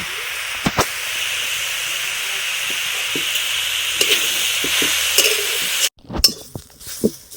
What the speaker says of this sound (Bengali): যতক্ষণ ধরে গাজরের কাঁচা গন্ধটা না গেছে ততক্ষণ ধরে গাজরটা ভাজবো